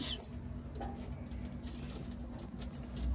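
Pigeons kept in a cage coo and rustle softly, with low murmuring coos and faint fluttering and scratching close by over a quiet steady hum.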